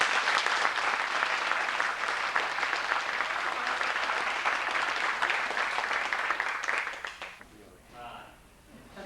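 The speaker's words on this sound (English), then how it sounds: "Give him a good round of applause." A seminar audience claps steadily in a sustained round of applause that holds for about seven seconds, then stops abruptly as a voice takes over.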